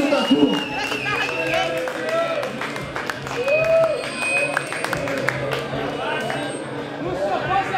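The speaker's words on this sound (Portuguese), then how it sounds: "Uma salva de palmas pro mestre Lúcio," Audience applause and cheering for a tattoo master at the Rio Ink tattoo event, a dense crowd clapping steadily throughout with chatter and voices mixed in.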